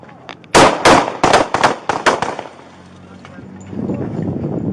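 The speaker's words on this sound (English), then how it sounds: "shots fired, suspect down." Several sharp gunshots crack in quick succession during a police encounter with an armed suspect, loud and close, followed by shouting voices.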